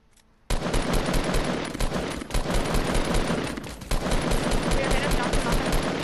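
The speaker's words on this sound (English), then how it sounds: "everyone just like continue to shoot at that" Dense, sustained automatic gunfire from a squad battle video game, rapid bursts packed together and loud throughout after a brief quiet start, with players' voices mixed in.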